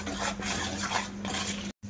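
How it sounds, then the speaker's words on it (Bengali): Gram flour (besan) with ajwain being mixed in a bowl for Bengali nimki gives a steady near scraping and stirring with faint clinks throughout, plus a steady low hum underneath and a brief dropout near the end. "এবার আমি বেসনটা বেশ ভালোভাবে মিশিয়ে নেব।"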